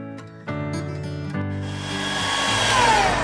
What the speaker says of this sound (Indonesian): kita kocok sama mixer aja nggak apa-apa. Kecepatan pelan aja. Kecepatan satu aja.